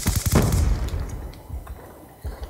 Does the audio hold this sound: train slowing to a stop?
no